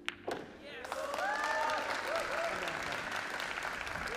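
A crowd at the final of a world teams pool championship, Philippines against Great Britain, breaking into sustained applause after a brief thump, with a few whoops and voices mixed into the clapping.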